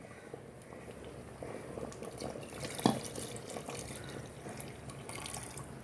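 Dahl gosht with coconut milk bubbles in a pot at a gentle boil, a soft continuous burble with small pops and a brief louder splash, close and quiet with no talking.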